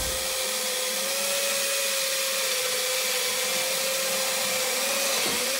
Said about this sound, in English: Drill your pilot as close to this corner as you can without